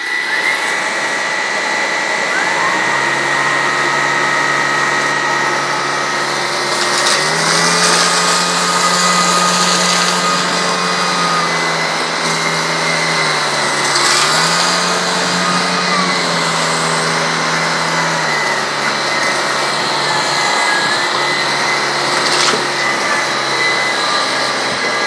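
Two cordless vacuum cleaners, a Shark Stratos with Clean Sense and a Hoover ONEPWR Emerge Pet on max, run steadily on a floor strewn with cereal, a loud continuous motor whine with pitch shifts as the heads move.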